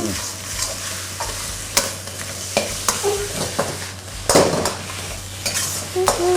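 Seaweed is stir-fried in a pan for wide noodles, with a close sizzle broken by repeated clanking spatula scrapes against the metal at an irregular pace.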